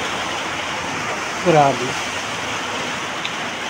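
Steady, dense rain from a typhoon hisses throughout, loud and close, with one brief spoken exclamation midway.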